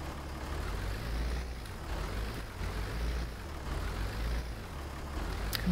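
Steady low truck engine drone of a concrete mixer truck in Farming Simulator 19, running close and continuous with a brief hiss near the end.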